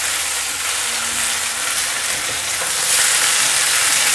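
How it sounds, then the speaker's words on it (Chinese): King oyster mushrooms and gluten sausage stir-fry in a hot wok, giving a steady, close, loud sizzle with a scraping of stirring running through it and no voices. "快速翻炒，把杏鲍菇和面肠"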